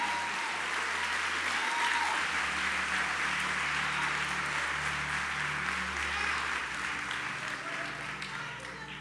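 A church congregation applauds together in a sustained, dense wave of clapping that holds steady for the whole stretch and eases slightly at the end.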